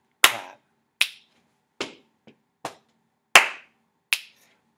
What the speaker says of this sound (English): So stamp, we'll pat, clap, and then snap.